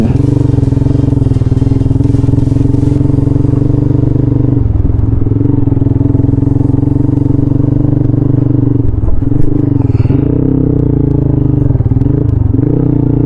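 Motorcycle engine struggling at high altitude on a mountain road in the Spiti Valley, a loud, close, continuous low drone with brief dips and recoveries in revs, heard alone with no talk.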